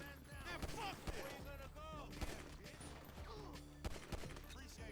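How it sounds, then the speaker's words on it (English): Gunfight gunfire in the video game GTA V, a dense fusillade of rapid shots crackling throughout with voices and background game audio mixed in. "Once you're finished with the gunfight"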